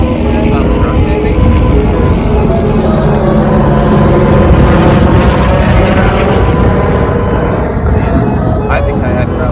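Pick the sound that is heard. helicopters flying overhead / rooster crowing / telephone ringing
helicopters flying overhead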